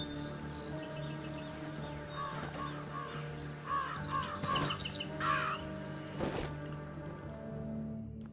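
Crows caw repeatedly in The Last Stand: Aftermath video game, several harsh calls scattered over a steady outdoor ambience with insects and light chirps, moderately distant and without speech.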